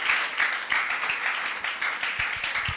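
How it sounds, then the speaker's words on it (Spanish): A church congregation claps together in worship, a dense, close round of applause with steady rhythmic hand claps running throughout. "Démosle una fuerte ofrenda de aplauso al Señor."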